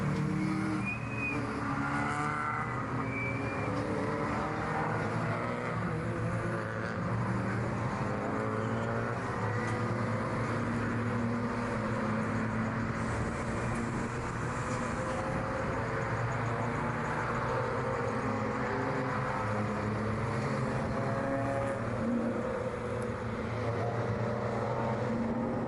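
Race cars on the formation lap at Brands Hatch GP circuit, a steady layered engine drone from several cars running at moderate pace, heard from a distance with continuous rumble and shifting tones throughout.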